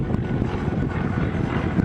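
An aerobatic aeroplane at a seaside air show rolls through a manoeuvre, heard as a continuous low, rumbling engine drone at moderate distance with light wind buffeting and no voices.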